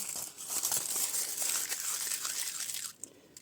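Aluminium foil being crumpled into a ball for a polymer clay brooch base, a loud, close, continuous crinkling that stops abruptly near the end with a couple of small rustles.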